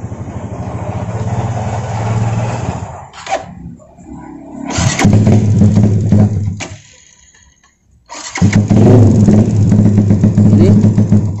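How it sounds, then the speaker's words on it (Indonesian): A Yamaha Jupiter MX King motorcycle engine with a Juken 5 ECU starts and runs at a steady idle, loud and close, with two short quiet gaps between bursts of running. "Hidupkan motor."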